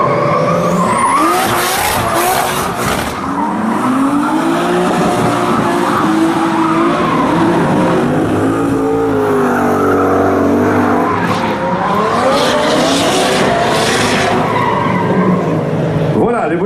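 BMW M3s and a Nissan Skyline drift on track at a show, with engines roaring and tires squealing in long, wavering howls that run loud and continuous throughout, while a voice speaks over the noise.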